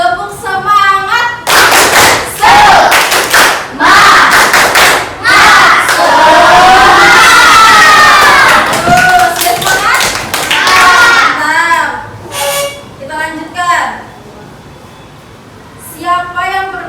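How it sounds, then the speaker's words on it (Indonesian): Classroom of schoolchildren in an Indonesian primary school performing a loud rhythmic spirit clap chant, bursts of group clapping alternating with shouted chanting, with a teacher's voice heard at the end. "kita tepuk semangat dulu"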